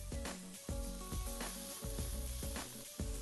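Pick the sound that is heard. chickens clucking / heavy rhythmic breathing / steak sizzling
steak sizzling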